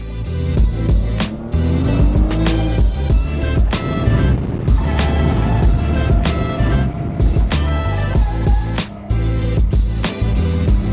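An underpowered drift car on grippy GT radial tires is driven hard, its engine droning and revving up and down through shifts, with sharp transient knocks and tire noise, close and continuous.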